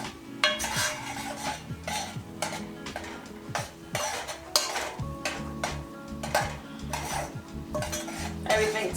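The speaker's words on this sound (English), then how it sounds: "I'm just going to mix this up again. Make sure I'm breaking down the ground beef." A spoon scrapes and clanks against a pan while breaking up seasoned ground beef, with rapid repeated metallic knocks and a faint sizzle close by.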